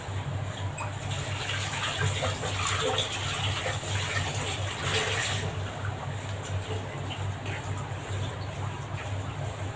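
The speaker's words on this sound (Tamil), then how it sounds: "இப்போ நான் கை கழுவிட்டு வந்துடுறேன்" Tap water runs steadily while hands are washed after eggs are beaten for an omelette, a continuous gushing splash with a low hum beneath, even and unbroken throughout.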